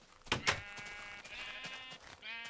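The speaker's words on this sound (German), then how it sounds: "Die Schafe haben ein eigenes Gehege bekommen," Sheep in a Minecraft video game pen bleat several times in wavering, nasal calls, fairly close and alone, with a couple of sharp clicks near the start.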